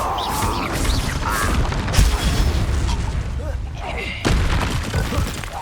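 Bombarda blast spell in Hogwarts Legacy combat, loud booming bursts and crashing impacts layered over busy fight noise, with a fresh hit landing midway and another near the end, while game voices call out in the background.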